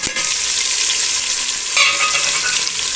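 Chopped onion and tomato sizzle loudly in a hot pan, a dense steady hiss of frying with a brief crackling surge midway, close and alone.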